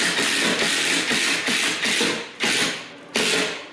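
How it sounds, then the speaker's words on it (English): A power driver sinks a 3-inch screw into a swollen floor joist while a water-damaged bathroom floor is repaired: loud, close whirring bursts repeat in quick succession, then come two longer pushes separated by short pauses. "I'll use a 3-inch screw, because that's a little bit swelled up and it caused it to not pull up the 2x."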